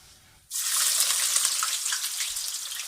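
A large, finely cut onion drops into a pan of fully heated oil for chicken korma, bursting into a loud, steady sizzle that continues unbroken after a quiet start.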